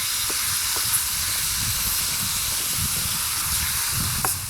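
Ground beef sizzles in an aluminum mess kit, stirred with a wooden utensil, making a continuous close hiss of frying with occasional soft scrapes and no talking.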